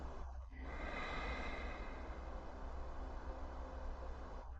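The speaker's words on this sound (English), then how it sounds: "Take a deep breath in and out." One long, slow, deep breath is drawn in and let out in a quiet room, a soft, airy rush that is faint and close and holds steady for several seconds between brief pauses.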